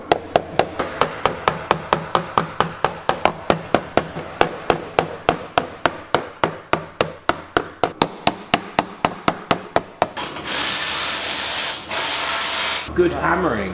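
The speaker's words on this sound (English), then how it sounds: "Good hammering" Rapid, evenly spaced metallic hammer blows on the heat shield of a VW Touareg exhaust, around thirty close, sharp strikes for ten seconds, followed by a burst of hissing spray-like noise.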